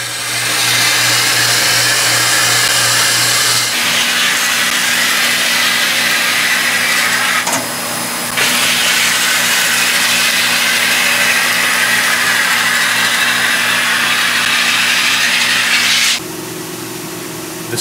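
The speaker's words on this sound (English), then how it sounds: "The final step on the grind rate machine is running the skis over the stone for the wet stone finish" A ski stone grinding machine runs skis over a wet stone for the final finish, giving a loud, steady whirring grind with a tonal hum that shifts in pitch partway through and eases near the end.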